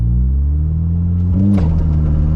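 A Stage 2 tuned 2008 Seat Leon Cupra K1 launches hard with the clutch dumped, its engine holding a loud, steady low drone, then revving upward sharply midway before settling back.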